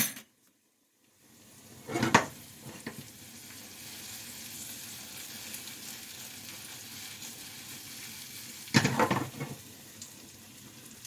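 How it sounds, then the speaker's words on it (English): Mushrooms frying in plenty of oil over high heat, a low continuous sizzle after a brief silence, broken by two louder bursts of pan and utensil clatter. "That just needs a couple more minutes to fry. I got it on high heat right now."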